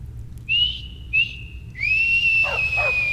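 Whistling in the video game Skyrim: two short rising whistles followed by a longer sustained whistled tone, clear and alone over a faint low background hum, with a couple of soft blips near the end.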